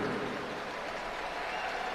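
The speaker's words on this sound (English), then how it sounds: "please put a big round of applause together for both of the fighters inside the ring" A boxing crowd applauds both fighters in the ring after a ten-round championship bout, a soft, steady, distant patter of clapping from the arena audience.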